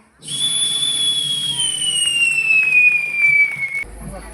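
A rocket firework whistling at a village middle-school annual day performance, one loud shrill whistle that slowly drops in pitch for several seconds before cutting off abruptly, over faint crowd noise.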